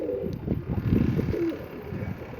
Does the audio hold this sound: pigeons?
yes